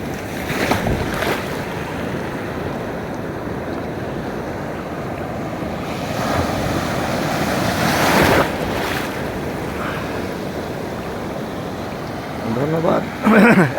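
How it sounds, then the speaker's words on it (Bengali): Large ocean waves roll in and crash continuously on the beach at Cox's Bazar, a loud broad wash of surf with gusts of wind, swelling at times, with a voice briefly heard near the end. "দেখুন কি বিশাল বিশাল ঢেউ এগিয়ে আসছে।"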